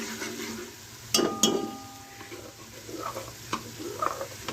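Onions browning in oil in a pan, a soft steady sizzle broken by a couple of sharp clinks from a utensil against the pan, with quieter stirring after.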